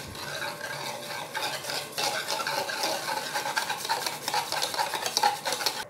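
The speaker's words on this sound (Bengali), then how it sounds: "এবারে এইটা দিয়ে ভালো করে আমি ফেটে নেবো।" Curd and sugar are whisked briskly in a bowl for a dragon fruit lassi, giving a continuous close, soft clatter of quick strokes with faint metallic clinks and no speech.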